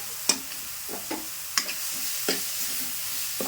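Village-style cluster bean curry frying in a pan with chilli and turmeric, heard as a soft low sizzle broken by a few spaced, crisp clinks of a spoon stirring against the pan.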